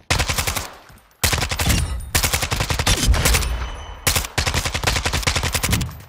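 Suppressed assault rifle from Modern Warfare 2 firing on a shooting range: loud, rapid automatic bursts of muffled shots in several strings separated by brief pauses, with no talk.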